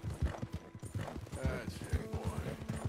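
Horse hooves clip-clop at a steady walking rhythm in Red Dead Redemption 2, with a faint whinny, close and even, partly mixed with a voice.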